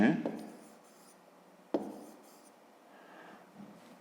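A pen writes on paper during a math exercise, two short scratchy bursts near the start and middle with quieter rubbing strokes between, close and soft, and a voice is heard faintly around it.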